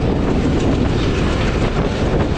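The Rajshahi commuter train runs on rails between Rohanpur and Amnura, a loud, steady rumble of wheels and carriage noise heard from on board, with no voices.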